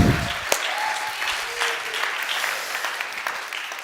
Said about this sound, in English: we're going to clap for Derek.